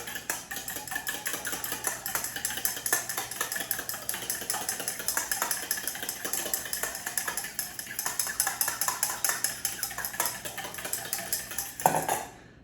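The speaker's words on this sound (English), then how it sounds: "I just use a fork to break it up." A fork scrapes and clinks rapidly against a bowl while breaking up ingredients for homemade picante sauce, producing a steady, busy clatter up close with a low hum underneath.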